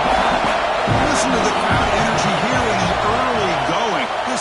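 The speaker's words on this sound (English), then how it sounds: "Listen to the crowd energy here in the early going." Football stadium crowd roaring steadily in the early going of a game, a dense, loud wash of cheering and crowd noise with a commentator's voice talking over it throughout.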